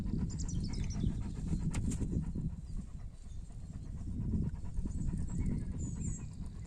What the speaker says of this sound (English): Yes, Astrid, you are a huge dog